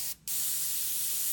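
Airbrush spraying paint for a photorealistic sunset, a continuous close hiss with a brief gap near the start, then steady spray throughout, no talking.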